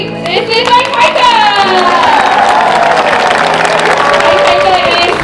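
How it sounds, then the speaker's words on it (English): Crowd at an orca show at SeaWorld San Diego cheers, shouts and applauds loudly and continuously, a dense roar of voices and clapping that swells and holds steady throughout. "He does love it when everyone gives him a big round of applause."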